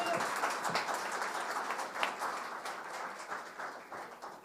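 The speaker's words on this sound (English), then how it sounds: "Please join me in giving Rebecca a nice round of applause" An audience at a housing complex grand opening applauds steadily, a dense wash of clapping hands that holds at an even level and tapers slightly toward the end.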